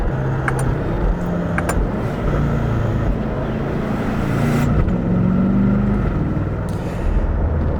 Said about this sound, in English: my one semi-major complaint is the exhaust note. Take a listen to some downshifts